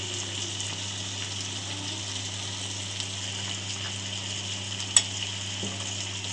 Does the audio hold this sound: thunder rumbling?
no